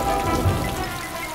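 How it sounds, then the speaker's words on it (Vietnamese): Heavy rain pours steadily onto the ground at the mouth of a cave during a thunderstorm, a dense, loud hiss with a deep low rumble rising briefly near the middle. "Trời ơi, mưa lớn."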